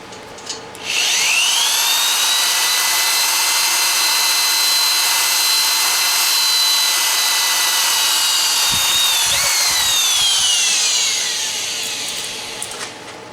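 Power drill boring through a steel track panel clamped in place, one long continuous whining run of about ten seconds with a high metallic screech, close and loud, spinning down at the end.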